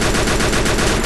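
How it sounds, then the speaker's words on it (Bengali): Dense, loud gunfire in a mobile battle-royale shooter match, with a sniper firing, sounds as a continuous clattering burst across the whole second with no voices. "স্নাইপার মারছে।"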